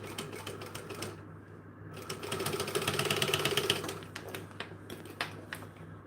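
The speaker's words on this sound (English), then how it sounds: "We go slower with our top stitching because we see it." A sewing machine top-stitching a fabric market bag runs with a steady, fast mechanical chatter close by, slowing briefly and then swelling louder through the middle before easing off, with no talking.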